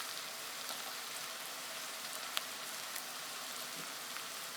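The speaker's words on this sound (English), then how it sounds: "Give it a good stir through and keep stirring this for about 35 to 45 seconds as this tomato paste browns." Tomato paste browning in a hot pan for shepherd's pie, a faint, even sizzle with a couple of tiny pops, no voices.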